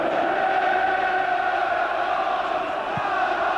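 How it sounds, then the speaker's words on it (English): A large football crowd at Anfield roars in a steady, dense wall of noise during Liverpool's UEFA Cup match against Barcelona in 2000, sustained and loud throughout with no break. "They have made an incredible noise, the Anfield crowd."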